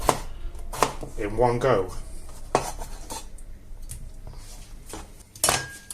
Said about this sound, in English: so potatoes are cubed up